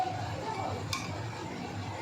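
Salted ash gourd (chal kumro) tipped into a pan for a Bengali sukto and stirred, with a steady low cooking rumble and a single brief scrape or clank of the spoon midway.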